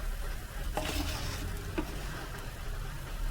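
Gobindobhog rice is stirred with spices in a pan, a soft continuous sizzle carrying a few brief scraping strokes of the spoon, close and fairly quiet.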